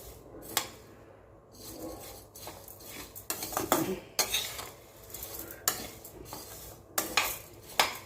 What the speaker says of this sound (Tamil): கடாயில் போட்டு கொஞ்சம் லைட்டாக வறுத்துக்கலாம்